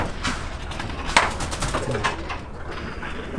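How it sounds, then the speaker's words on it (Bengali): High-flying pigeons coo inside a loft, soft rolling calls with scattered sharp chirps, wing rustles and a light wooden thump partway through. "এই কবুতরগুলো কিন্তু খুবই ভালো মানের কবুতর"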